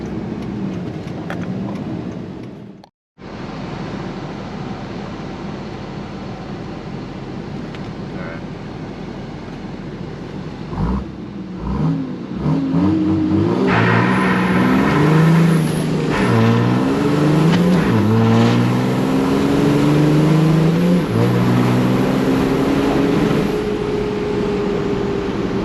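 A 2006 diesel Ram pickup truck runs with a rough engine drone, then revs hard and climbs through several gear shifts, each pitch rise broken by brief drops, loud and close from inside the cab.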